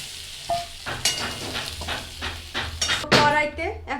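Fried potatoes being lifted from an oil-filled pan, with spoon scrapes and metal clinks against the vessel over a soft background sizzle, plus a few rustles and bumps.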